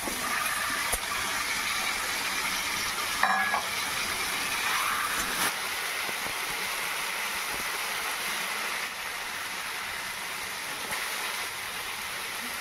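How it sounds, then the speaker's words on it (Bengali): Chicken pieces stir-fried in oil-rich fried spice masala for a home-made chicken curry give a steady, close sizzling hiss throughout, with one brief clatter of the utensil partway through and no talking. "আমি এবার চিকেনটা দিয়ে সুন্দর করে কষিয়ে নেব।"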